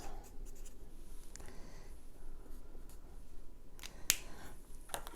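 Pen writing on paper while making Halloween tombstone labels with a punch, faint close scratchy strokes with a few sharp clicks near the end, no talk.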